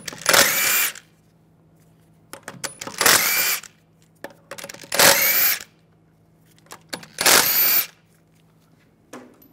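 A power tool with a 17 mm socket zips lug bolts off the rear wheel of a 2006-2009 Mercedes-Benz E350, four loud, separate whirring bursts, each about a second long, with short pauses between.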